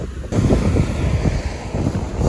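Strong wind blowing across a Baltic Sea beach near Zelenogradsk, buffeting the microphone in a steady low roar with surf-like surges throughout, loud and continuous with no voices.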